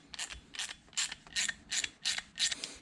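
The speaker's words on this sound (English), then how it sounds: "Now go ahead and tighten these up. These are a 10mm. So I've got a 10mm ratchet and wrench here." A 10mm ratchet tightening nylon locking nuts on a snow plow bracket, heard as six or seven close, quiet, evenly spaced clicking ratchet strokes with no voices.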